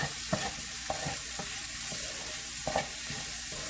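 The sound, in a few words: stirring green tomato chutney with mint in pan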